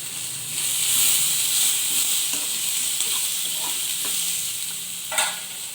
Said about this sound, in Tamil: இப்போது இதை நல்லா வதக்கிக்கலாம்.